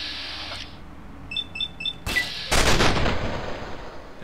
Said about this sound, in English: It looks like she hit him with the sniper rifle